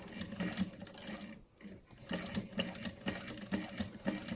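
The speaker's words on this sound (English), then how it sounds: "And then I'm back stitching on the black glitter vinyl and then just jumping over" A sewing machine backstitching through black glitter vinyl for a craft frame chatters in quick rapid stitches, close and moderately loud, with a brief pause partway before it resumes.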